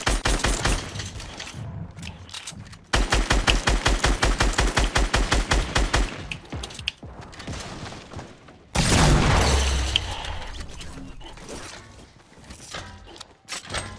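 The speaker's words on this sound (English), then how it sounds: "they're shooting rockets and shit." Enemy rockets and guns in a battle-royale shooter game: rapid bursts of automatic gunfire, stretches of continuous rattling fire and a heavy explosive boom, loud and close, with short pauses between volleys.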